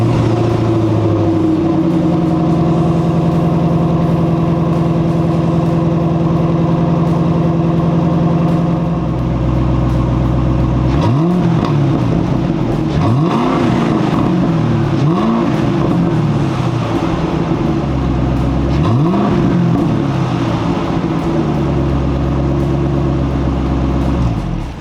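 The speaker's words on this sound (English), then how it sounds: "And here's the Xpipe." A Ford Mustang GT S197 with an X-pipe exhaust idles with a deep burble, then revs repeatedly in sharp rising and falling blips before settling back to idle, loud and close.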